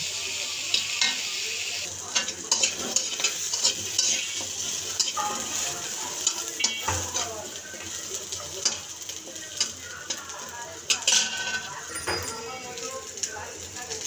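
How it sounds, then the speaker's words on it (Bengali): Small potato pieces fry in a pan with a constant sizzle, broken by frequent clattering knocks and scrapes from stirring throughout. "ছোট ছোট পিস করা আলুগুলো আমরা একইভাবে ভেজে নিচ্ছি"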